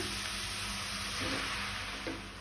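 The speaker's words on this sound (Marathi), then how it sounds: "टोमॅटो आमकां तेलान तळसून घेवपाक जाय, शिजोवन घेवपाक जाय।" Chopped onion and tomatoes fry in oil for a Goan crab sukha, giving a continuous close sizzling hiss with a few soft stirring sounds and no talking.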